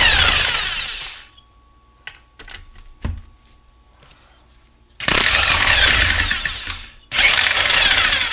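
A power ratchet buzzes loudly while loosening transmission case bolts on a 2002 Honda Odyssey automatic transmission. Three long whirring runs are separated by a quieter stretch of clicks and metallic taps.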